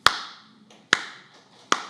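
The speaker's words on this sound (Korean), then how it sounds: "여기서는 박수를 쳐야 돼요." Three sharp, evenly spaced hand claps ring out during a Sunday morning church service, each one crisp and close with a short echo trailing off in the sanctuary.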